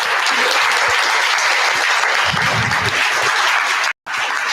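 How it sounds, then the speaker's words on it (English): An audience at a book release event bursts into sustained applause, dense steady clapping filling the room at close range for several seconds, with a brief cut near the end. "So a round of applause for."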